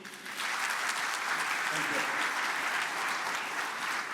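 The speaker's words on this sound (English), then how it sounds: "big round of applause for Mr. Murthy" A large audience at a forum applauds Mr. Murthy with a steady, dense wash of clapping that runs evenly throughout and is heard at a moderate distance.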